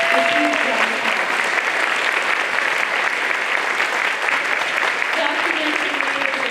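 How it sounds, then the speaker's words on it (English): A concert audience at a combined concert and treble choir event applauds the documentation team: dense, steady clapping fills the room from start to finish, with faint voices at the edges. "Please give them a huge round of applause."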